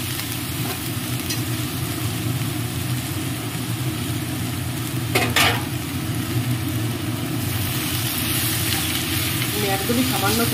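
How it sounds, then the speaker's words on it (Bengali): Shredded cabbage fries in a pan with just a little oil, giving a steady, close sizzle throughout, with a brief clatter of a utensil midway. "আমি একদমই সামান্য তেল দিয়ে এটা ভাজলাম ভেজে ভেজে দিয়ে"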